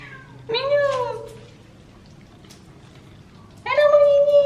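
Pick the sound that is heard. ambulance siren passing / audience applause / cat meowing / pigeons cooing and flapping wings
cat meowing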